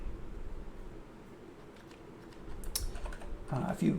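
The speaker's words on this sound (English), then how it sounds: "how slow I am at typing in this new format" Computer keyboard keys clatter in uneven bursts, quiet at first and then building into quicker, louder runs of typing close by.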